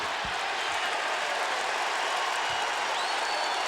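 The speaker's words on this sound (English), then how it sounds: "this crowd is showing their appreciation for an absolutely phenomenal effort right here by the Tennessee Volunteers" Loud, dense applause and crowd roar from a Tennessee Volunteers basketball crowd in an arena, sustained evenly throughout with a couple of low thumps underneath.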